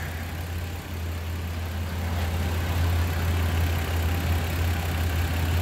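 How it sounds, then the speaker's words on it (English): A warm Toyota Land Cruiser FZJ80 engine idles steadily just after starting, a constant low rumble with an even drone throughout, close and fairly loud with no talking. "just started the vehicle, it's warm, timing light is connected"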